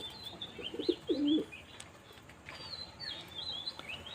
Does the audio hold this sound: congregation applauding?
no